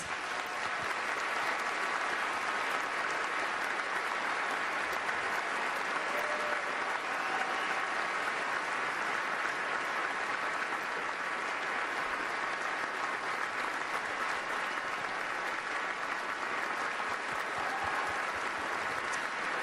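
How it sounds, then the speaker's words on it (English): Sustained, thick applause from a large banquet audience at the 2011 NASCAR Sprint Cup Series Awards Banquet honouring soldiers, an unbroken roar of clapping at constant loudness for nearly twenty seconds. "Please give them a round of applause."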